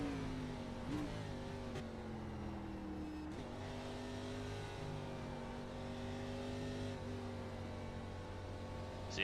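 A race car lapping Lime Rock Park in a racing game, its engine droning steadily with rising and falling pitch through gear changes and corners, continuous and fairly close.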